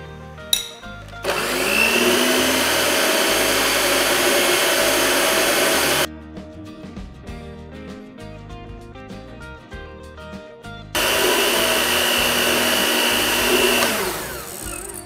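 An electric hand mixer beats vanilla cake batter in a bowl, a loud steady whirring drone that stops for several seconds of quieter clatter, then runs again before winding down, close with no talk.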